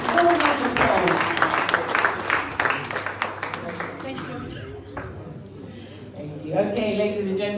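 An audience at a town hall meeting and fundraiser in Manchester, UK, gives a round of applause, loud dense clapping that thins and tapers off while voices talk over it, then a brief swell near the end.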